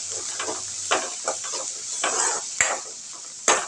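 Curry leaves and coriander leaves sauté in oil, a bright hissing sizzle punctuated by repeated spatula scrapes and a couple of sharp metallic taps against the pan, close by.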